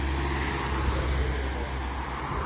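A steady, fairly loud roar of cars driving past nearby on Drohobytska Street in Truskavets, Ukraine, with a constant low rumble of road traffic throughout.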